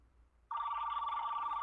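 Telephone ringing tone that starts abruptly after a short quiet stretch and holds as a loud, steady electronic ring to the end, heard alone.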